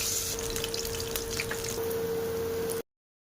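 Gourd-leaf pakoras bubble and fizz in hot oil with a steady, close crackling hiss and a faint continuous hum, no talking, stopping abruptly near the end.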